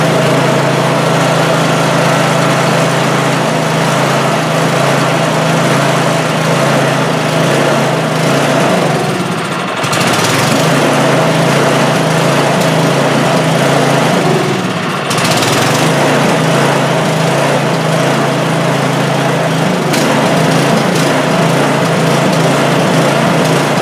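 Snow blower engine running with the choke on, a loud, steady droning whir that continues without a break apart from two brief dips midway.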